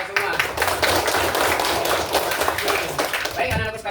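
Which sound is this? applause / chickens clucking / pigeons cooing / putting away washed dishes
applause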